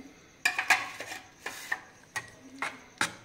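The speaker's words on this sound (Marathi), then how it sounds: "आता याच्यात आपण जे 1 चमचाभर ज्वारीचं पीठ घेतलेलं आहे ते आपण याच्यातच मिक्स करून घेणार आहे।" A spoon stirs sorghum flour into a pan of green gram-leaf curry with sharp scraping clinks against the pot in irregular bursts, fairly close and with no talk.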